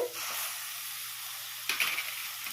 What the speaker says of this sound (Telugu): ఆయిల్ వేస్తున్నాను అలాగే మనం లైట్గా ఒక్కసారి ఉల్లిపాయలు వేసుకుందామండి